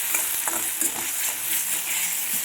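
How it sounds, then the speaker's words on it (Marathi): Barnyard millet (vari rice) crackling and sizzling in a hot pan, a dense bright frying hiss with small popping ticks, steady and close, no voices. "चटकतं आहे"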